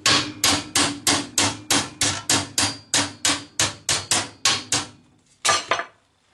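Repeated hammer blows on sheet metal while shaping a panel for a Citroën Traction 11B interior: about fifteen sharp, ringing strikes in a steady rhythm, a brief pause, then two more, loud and close with no talking.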